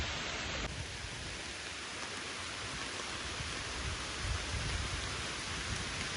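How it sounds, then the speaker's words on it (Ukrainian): Heavy rain pours down during a pause on a cycling route near Kyiv, a dense, even hiss with no letup, heard alone without any voices. "ми зупинились, тому що йде сильний дощ"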